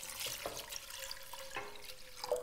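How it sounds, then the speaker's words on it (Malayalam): Water from a cup is poured into a pot of soaked sago, a faint, soft splashing trickle with a few light plops and no speech. "അതിനുശേഷം നമ്മൾ 2 കപ്പോളം വെള്ളം എടുത്ത് അതിലേക്ക് ഒഴിക്കുക"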